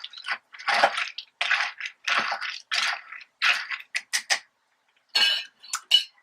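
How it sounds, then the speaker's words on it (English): A blueberry mojito with mint being stirred, a run of close, bright clinking and scraping strokes in quick irregular bursts with short pauses between. "My mint's all at the bottom. Give it a little stir."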